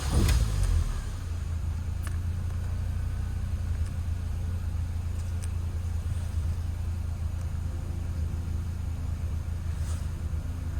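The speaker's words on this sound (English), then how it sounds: "let's try to switch off the car, switch on the car again" A 2001 Mini R50 switches on with a brief burst at the start, then idles in a steady low rumble that holds throughout, with a few faint clicks along the way.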